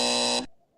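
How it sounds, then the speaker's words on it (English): A harsh electronic buzzer blares loud and close for about half a second, then cuts off abruptly into near silence. "definitely a buzzer on that one"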